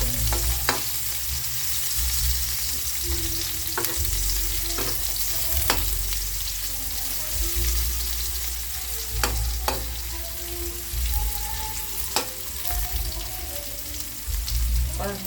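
Onions fry in a pan for a Filipino milkfish dish, sizzling steadily throughout with repeated sharp scrapes and clicks of stirring scattered across the whole stretch, moderately loud and close, no voices.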